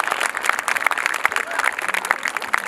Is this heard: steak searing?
no